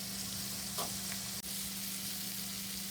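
Shrimp burgers fry in a pan with a steady, dense sizzle that holds for the whole stretch. It stays loud and close, with a brief clatter and a sharp tick partway through, and nobody talks.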